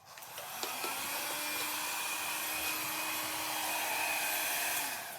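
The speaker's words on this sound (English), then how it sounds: "Put on the blow dryer. Cat goes away." Blow dryer switched on and running steadily at close range, a continuous whooshing roar with a faint tonal whine, starting within the first second and fading out near the end.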